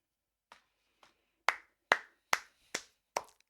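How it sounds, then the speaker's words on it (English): Seven sharp hand claps ring out in an uneven sequence, two light ones followed by five louder, closer claps spaced about half a second apart against near silence. "Clap it up, boys and girls."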